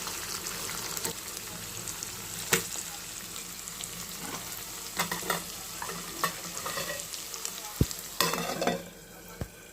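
Chicken frying in a pan until golden, a continuous close sizzle with intermittent stirring scrapes and a few sharp knocks of utensil on pan, no talking.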